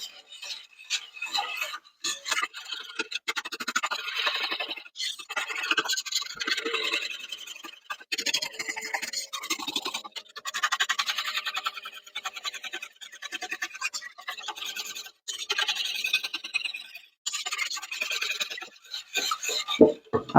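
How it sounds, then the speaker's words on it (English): A whisk scrapes and rattles quickly through wet chocolate cake ingredients in a bowl, a close, continuous scratchy rhythm with brief pauses between bursts of stirring. "we're going to whisk this and just combine all of these wet things together"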